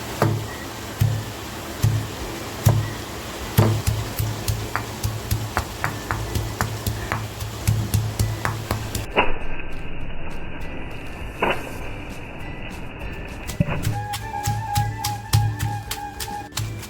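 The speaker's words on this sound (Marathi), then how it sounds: "आता बघा हे मी बारीक करून घेते जाडं भरडं करते" Chilli masala for chicken thecha is crushed coarsely by hand, with close, irregular knocks and pounding thuds and a scraping, grinding texture between them.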